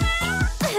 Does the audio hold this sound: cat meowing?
yes